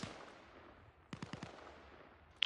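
Gunfire in a PVE squad shooter game: a short burst of four or five quick shots, then a sharp crack at the end, all fairly faint and without talk.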